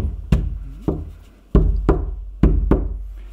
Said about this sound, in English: just knock on the wood and see how it sounded